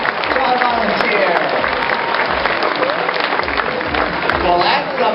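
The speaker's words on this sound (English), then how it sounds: "Let's give a nice round of applause to our volunteer." An audience at a theme-park bird show claps for a volunteer with loud, dense applause that holds steady throughout.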